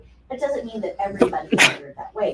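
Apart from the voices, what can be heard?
sneeze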